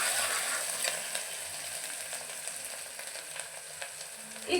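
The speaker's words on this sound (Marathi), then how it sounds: "हिरवी कोथिंबीर घ्यायची आहे, थोडीशी चांगली तेलामध्ये परतून घ्यायची" Soft onion and green coriander sauté in oil in a pan, giving a faint, steady sizzle with occasional light stirring clicks and no speech.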